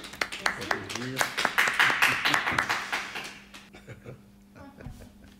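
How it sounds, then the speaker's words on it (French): An audience applauds a speaker after a talk on psychosis and cancer: distinct, fairly close claps in an uneven rhythm that thin out toward the end, with voices talking over them. "En tout cas, on l'applaudit."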